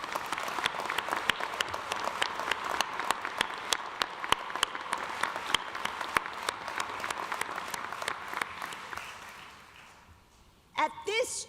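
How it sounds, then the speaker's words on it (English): Sustained applause from a large commencement crowd in a university arena, dense and steady for about ten seconds before tapering off, followed by a brief voice at the end. "Let's acknowledge that with a round of applause for everyone"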